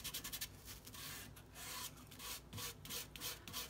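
Glitter is burnished onto white cardstock with quick, close rubbing strokes, a soft scratchy friction sound repeating in short irregular bursts at low volume.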